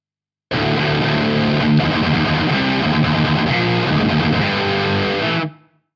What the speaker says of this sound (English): turning on the distortion, this is the tone